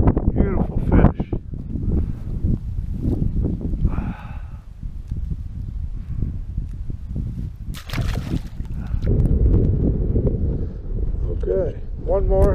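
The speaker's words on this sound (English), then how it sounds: "I'm sick of the wind" Gusty wind buffets the microphone outdoors on the water during a bass fishing outing with a Ned rig, a steady rumbling roar running the whole time with brief splashy bursts and a person talking over it.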